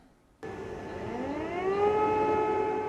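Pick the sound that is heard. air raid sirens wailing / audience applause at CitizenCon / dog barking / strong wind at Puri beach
air raid sirens wailing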